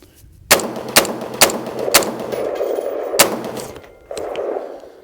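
A WS MCR AR180B-pattern rifle fires five sharp, loud shots at uneven intervals, each with a short ringing decay, ending in a brief metallic rustle of handling.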